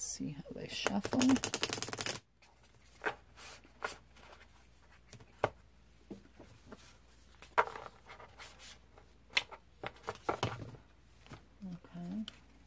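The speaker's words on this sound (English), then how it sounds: "see how they shuffle." Deviant Moon tarot cards being shuffled, a dense burst of riffling at the start followed by scattered soft taps and card slides, with a person talking quietly in between.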